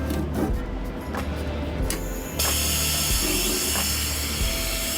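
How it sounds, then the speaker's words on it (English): Air-operated drop axle on a truck being raised, with a steady loud hiss and mechanical whoosh that steps up partway through and then holds as a continuous rush of air. "And I'm gonna raise that back axle."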